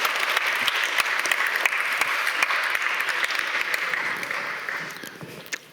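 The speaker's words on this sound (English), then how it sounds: "please, everyone, give a big round of applause for Marlon" A university symposium audience applauds a speaker named Marlon with steady, dense clapping that holds evenly for several seconds and then tapers toward the end.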